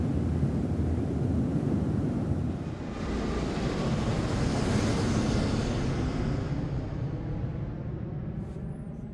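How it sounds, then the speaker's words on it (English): Airplane noise in an edited video sequence, a broad steady roar that holds for several seconds and then gently thins out toward the end, moderately loud with no voices. "the sound of the airplane dies away slightly"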